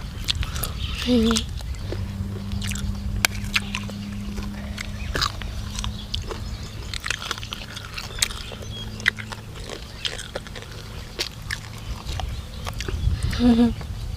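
Crunchy Thai fried chicken wings and feet being bitten and chewed up close, a dense run of crisp cracking bites and chewing crunches continuing throughout, with a low background hum.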